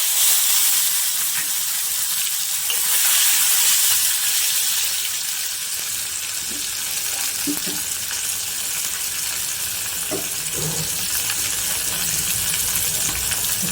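Tomatoes dropped into a hot tempering of mustard seeds, cumin, asafoetida and turmeric for Kathiyawadi-style urad dal, frying with a steady close sizzle and hiss that continues throughout with faint occasional stirring.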